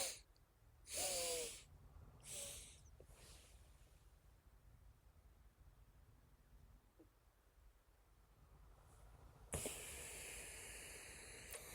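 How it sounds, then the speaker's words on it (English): Someone with hiccups takes deep breaths in through the nose, heard as a few sharp, close sniffing inhalations. A long quiet stretch follows, then a longer loud breath. "breathe in deeply through your nose 3 times without breathing out"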